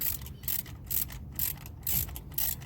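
A ratchet wrench loosens the ignition coil bolt on a 2000 Toyota Corolla with a misfire, giving a series of close, rhythmic bursts of clicking, about six strokes, with no talk.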